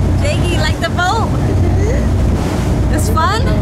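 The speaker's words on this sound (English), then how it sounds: "Jakey, you like the boat?" A boat motors across the water with wind buffeting the microphone and waves washing beneath, as people talk excitedly over the noise.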